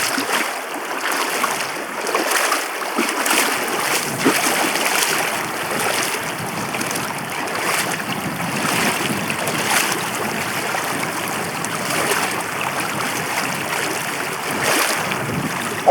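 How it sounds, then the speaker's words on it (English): Wading through a river crossing on Iceland's Laugavegur Trail: a steady rush of flowing water and splashing with wind buffeting the microphone, continuous and close for the whole stretch. "Another successful river crossing."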